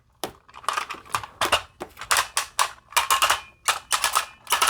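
A cheap $30 knock-off Metrotitan toy robot's plastic joints click and ratchet in quick irregular bursts, loud and close, with no talking.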